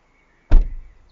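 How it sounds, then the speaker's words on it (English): A car door closes in an audio drama, a single close solid thunk with a short fading decay against a quiet background. "Mac closed the car door."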